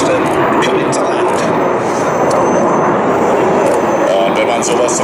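A large military aircraft in a steep diving landing approach at a live-flying exercise gives a loud, continuous engine roar throughout, with speech over it.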